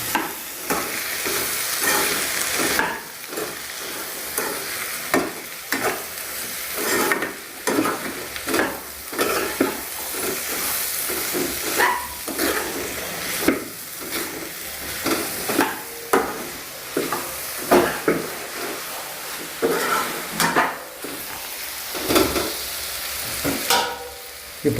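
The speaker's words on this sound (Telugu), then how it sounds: "కలుపుతున్నామండి." Chili powder being stirred into a frying mixture in a pan, a steady sizzle broken by repeated scraping stir strokes in an irregular rhythm, close and fairly loud with no talking.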